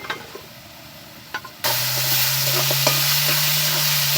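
Turmeric tipped into a pan of frying spices sets off a sudden loud sizzle partway through, then a steady close hiss and crackle of hot oil under a low hum, after some quiet kitchen clinks before it.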